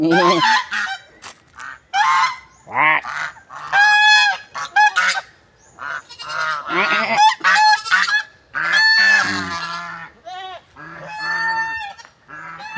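Geese honking loudly and close on a small mini farm in Binogscan, Guinobatan, Albay, with overlapping bursts of harsh, nasal calls running almost continuously and no talk.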